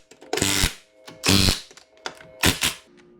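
An impact wrench tightens a wheel on a Can-Am Maverick X3 in three short, loud bursts of rattling hammering separated by brief pauses, close up.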